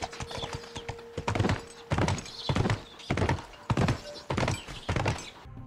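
Horse hooves clip-clop in a steady galloping rhythm during riding in the video game The Last of Us Part 1, close and crisp, with about eight clustered hoofbeat bursts and a brief whinny early on.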